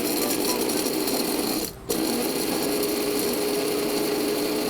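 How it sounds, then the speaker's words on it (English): Waring Professional spice grinder blitzing dried vanilla bean pieces, a loud steady whirring motor that cuts out briefly for a split second before resuming at full speed. "Then I'm going to grind them for a few seconds."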